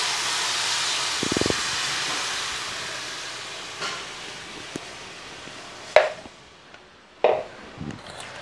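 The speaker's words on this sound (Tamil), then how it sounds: "இப்போ கத்திரிக்காயில் அந்த பொடியை பிரட்டிட்டு இப்போ நான் புளித்தண்ணி சேர்த்துக்கிறேன்." Tamarind water poured into a pan of eggplant coated in spice powder sends up a loud, steady sizzle and hiss that slowly fades, punctuated by a few sharp clanks of a utensil against the pan.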